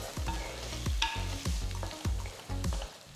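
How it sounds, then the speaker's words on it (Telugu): Chopped ripe tomatoes are stirred into onions frying in a pan for fish curry, with a steady sizzle and rhythmic scraping strokes of the spoon about every half second, close and without voices. "ఇప్పుడు చిన్నగా తరిగిన నాలుగు పండు టొమాటోల్ని వేసి కలపాలి"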